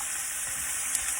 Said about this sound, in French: Pendant que les pâtes cuisent, vous pouvez en profiter pour remuer la poêlée